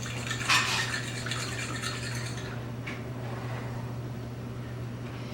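A spoon clinks and scrapes in a bowl as ingredients for white bread are mixed, with a louder knock at the start, then softer scraping that fades over a steady low hum.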